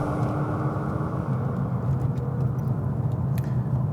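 A 2016 BMW M2 sports car holds a smoky burnout with wheelspin, producing a steady, loud, close engine roar and low rumble without pause.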